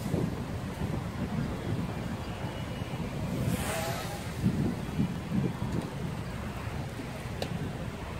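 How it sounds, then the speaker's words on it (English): Breezy outdoor wind buffets the microphone in a steady low rumble that lasts throughout, with slight gusts and faint background noise. "Man, it's breezy out there."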